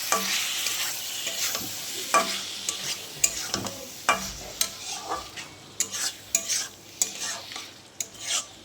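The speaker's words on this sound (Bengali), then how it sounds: "এইভাবে নাড়বো আমি কিছুক্ষণ ভাজবো ভালোভাবে" Ground fried-onion paste stirred and fried in a pan, a soft sizzle broken by repeated scraping strokes of a spatula at an uneven rhythm, close and alone.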